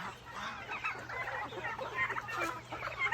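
Mixed breeds of chickens, along with turkeys, cluck and chatter continuously in a low, faint flock murmur with a steady hum underneath and no speech.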